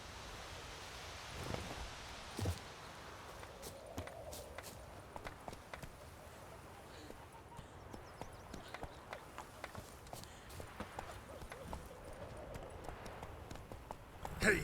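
Roach, the horse in The Witcher 3: Wild Hunt, gallops with steady clip-clop hoofbeats at moderate distance over a soft ambient bed, with sharper hoof strikes rising near the end.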